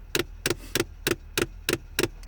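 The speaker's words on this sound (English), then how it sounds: "I think it's the door flapper." Steady, even ticking from a truck's heater door flapper after the engine is shut off, eight crisp clicks about a third of a second apart, close and clear with no talking.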